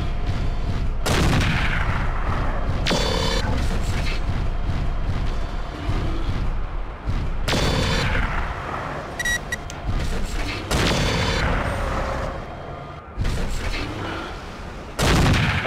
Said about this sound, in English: Munitions fire all over the place.